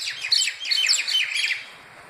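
Small birds chirp in quick, shrill bursts of high tweets and squawks during a fight between birds, loud and close, with no talking.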